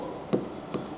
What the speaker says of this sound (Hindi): पूरा ही लिखता हूं